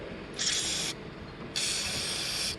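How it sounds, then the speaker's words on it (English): Lubricant sprays onto the door latch of a Jeep Wrangler YJ hard door in two short hissing bursts, the second longer, close and fairly quiet, with no voices. "I'm going to spray some more here because I don't think I got behind this."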